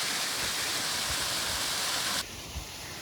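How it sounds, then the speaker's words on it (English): Waterfall on Rock Creek Trail in Twin Falls, Idaho, a dense, steady rushing roar of falling water heard close up, dropping abruptly to a softer hiss near the end. "But I wanted to show you this waterfall."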